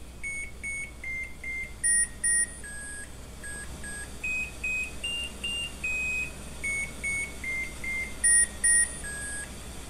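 A Japanese kerosene heater starting up plays a string of electronic beeps and a simple chiming melody, clear and steady for about ten seconds with a few brighter double beeps, with no voices.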